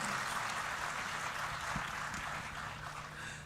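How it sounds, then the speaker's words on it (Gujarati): Loud, sustained audience applause fills a stage show honouring the nation's protectors; the dense clapping stays steady for a few seconds, then eases slightly toward the end. "એકવાર જોરદાર તાળીના ગડગડાટથી આપણે વધાવીએ."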